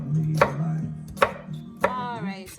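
A knife chops sweet pepper on a cutting board for Jamaican coleslaw, four sharp, distinct thuds spaced unevenly, each close and crisp against a quiet kitchen background.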